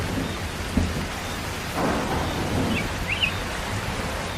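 Heavy rain keeps up a steady hiss in a cartoon scene, and low rumbles of thunder roll under it, with a few faint chirps in the distance. No one speaks.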